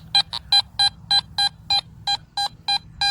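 Metal detector near buried iron on a test bed, emitting a steady run of about eleven evenly spaced high squeaky beeps, loud and close, over a faint low hum with no talking.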